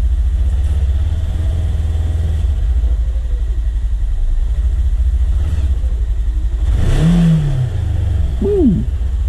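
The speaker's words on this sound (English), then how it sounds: "the transmission noise of the belt, a kind of a whirring or a whining sound off the line, it's barely noticeable." A Polaris Ranger XP1000 side-by-side with a belt transmission accelerates off the line, a loud low engine rumble steady at first, then rising in pitch with a faint whirring whine, nearby and with no talk.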